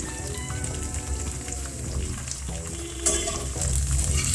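Carrots, cauliflower and mixed vegetables fry in a pan with a loud, dense, crackling sizzle that sounds a little like rain, broken by scraping stir sounds. It is heard up close with no talking.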